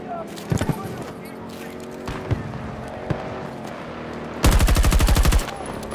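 Battlefield 2042 gunfire on the Africa Harbor map: scattered single shots early on, then a loud, rapid automatic burst near the end over continuous battle din and shouted voices.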